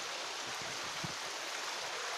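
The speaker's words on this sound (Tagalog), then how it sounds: "bumabaha ito. Tumataas yung tubig na ito." Floodwater rises and flows past a house in the Philippines, a steady broadband rushing wash with a few low splashing knocks, continuous and nearby, no voices.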